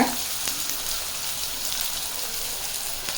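Onions tossed into hot oil with popped mustard seeds and curry leaves for a Tamil cabbage poriyal, giving a steady broad crackling sizzle that runs evenly throughout with a couple of faint clicks.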